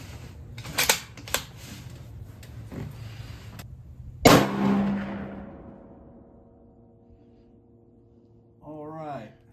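A single loud rifle shot from an M1903 chambered in .30-06 cracks outdoors and rings out in a long fading tail, after a few nearby mechanical clicks; a brief voice sounds at the end.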